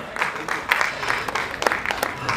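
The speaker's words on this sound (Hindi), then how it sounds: "जोरदार तालियों की गड़गड़ाहट हो जाए दोस्तों सब" An audience at the Hindustan Ratna Awards 2024 ceremony claps loudly and steadily, a dense continuous round of applause with a few sharper peaks.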